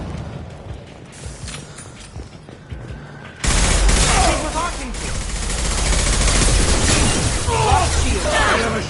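Gunfire in the Mass Effect 2 game starts after a quieter stretch with faint voices. Loud, dense volleys of rapid shots and bursts follow, with booms and shattering mixed in, continuous and close.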